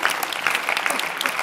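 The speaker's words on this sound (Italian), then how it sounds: "E poi un applauso a tutti quanti che hanno dato la mano a fare questa bella festa di oggi" Audience applause at a film festival screening, a steady dense patter of many hands clapping, fairly distant and even throughout.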